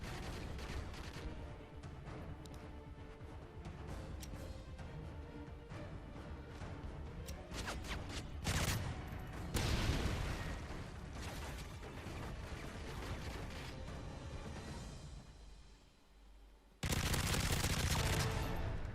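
Submachine gun fire in Modern Warfare 3 Survival mode on the Village map: dense, loud bursts of rapid automatic shots with clattering mechanisms, a short lull, then another heavy burst.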